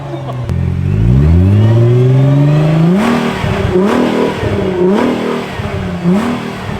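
Nissan GT-R engine revving loudly through its exhaust, close by: a long rising rev that holds, then three or four shorter blips in quick succession, with nothing else over it.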